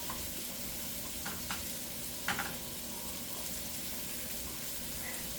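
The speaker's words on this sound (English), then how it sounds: "Just give it a nice little fry." Spinach and cream of mushroom frying in a pan: steady soft sizzling throughout, with a few brief scraping stirs, heard close and alone.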